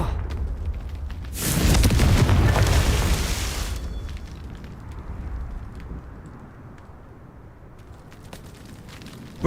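A Confringo blasting spell in Hogwarts Legacy sets off a loud, broad explosion that roars for about two seconds, then fades into a long rumbling tail of crackling debris and low ambience.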